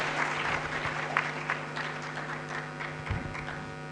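University conference audience gives a round of applause for an honoured guest speaker, a steady crowd of clapping over a low electrical hum, with a couple of louder individual claps standing out.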